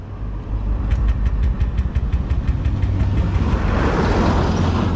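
A TVS Ronin motorcycle that has run out of petrol, its self-starter cranking in a quick, close, rhythmic churn for a couple of seconds without the engine catching, over a loud low rumble.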